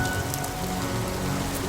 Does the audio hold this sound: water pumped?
no